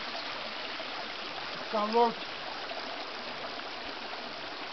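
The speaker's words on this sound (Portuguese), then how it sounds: "só escutar o barulho da cachoeira aí" Distant waterfall at Morro do Sete in Morretes, a faint, steady rushing hiss of falling water running throughout, with a short spoken phrase breaking in briefly partway through.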